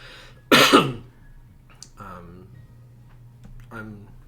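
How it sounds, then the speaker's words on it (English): One loud, harsh cough or throat-clear up close, followed by quieter murmured speech with a low hum underneath. "That's stuff I'm coughing"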